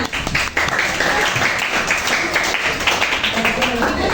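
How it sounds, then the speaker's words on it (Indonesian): Classroom of students clapping for a group's work, a lively burst of applause with voices mixed in underneath throughout. "Tepuk tangan."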